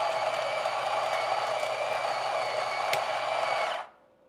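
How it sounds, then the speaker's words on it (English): The built-in coffee grinder of a Meraki espresso machine runs with a steady high whirring drone for nearly four seconds, then cuts off abruptly, close and loud with no voices. "whenever I change my grind size, I like to run my grinder."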